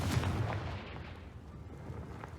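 A fiery Confringo spell blast in the video game Hogwarts Legacy, a loud booming burst that rolls into a dense, rumbling explosion-like wash filling the whole moment, with no talk.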